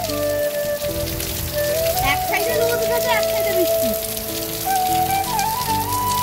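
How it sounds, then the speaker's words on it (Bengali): Steady rain patters continuously in the background while a tonal whistling sound wavers over it, with no clear speech. "এই যে বৃষ্টিটা হচ্ছে"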